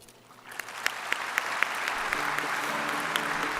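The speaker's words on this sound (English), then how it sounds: "Let's give President Jovanovic another big round of applause for her meaningful speech." Audience applause after a president's speech at an opening ceremony, building from quiet to a full, steady clapping with a few sharp nearby claps standing out and a faint voice underneath.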